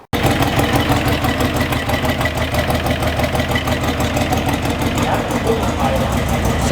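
A car engine idles steadily after its crank sensor was removed, wire-brushed and plugged back in, holding a constant, even rumble close by for the whole stretch with no revving.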